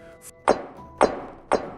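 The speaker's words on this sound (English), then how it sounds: "They hear soft knocks on walls" Three soft, hollow knocks land at an even, unhurried pace, close and muffled, in an otherwise quiet room.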